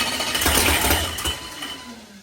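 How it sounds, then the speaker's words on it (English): An engine fitted with a new blower supercharger cranking over on its first fire-up attempt, a loud, rapid whirring churn that fades out without catching. "first blower fire up attempt"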